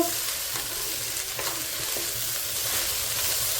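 Okra frying in a pan while it is stirred, a steady close sizzle with scraping stir strokes throughout, no talk.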